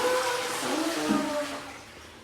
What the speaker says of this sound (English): Here's how you flush the toilet right here.